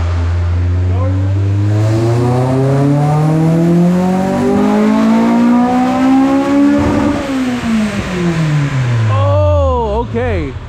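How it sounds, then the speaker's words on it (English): A 1994–2001 Acura Integra with a swapped JDM K20A engine revs steadily upward on a dyno, a loud rising engine whine that peaks, falls back, and then blips a few times near the end. "we put it back in and you guys can hear the car. It's idling now"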